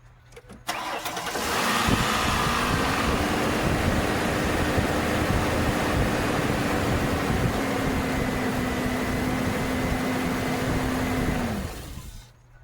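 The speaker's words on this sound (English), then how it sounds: "Now I'm going to start the engine" A Ford Explorer's 4.0-litre V6 cranks briefly, catches and fires up, then settles into a steady, even idle that runs at constant loudness for about ten seconds before cutting off.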